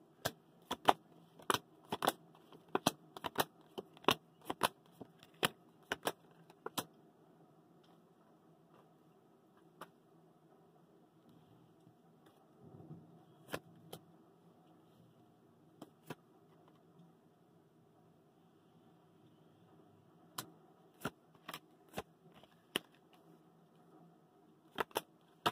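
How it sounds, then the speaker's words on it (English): Tarot cards shuffled and laid down on a table, sharp crisp clicks and slaps coming in quick bursts at the start and again near the end, with a quiet stretch in between. "let's get your cards down"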